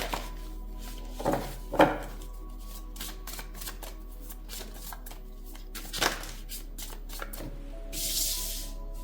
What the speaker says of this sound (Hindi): अब मैं थोड़े से कार्ड्स निकाल लेती हूँ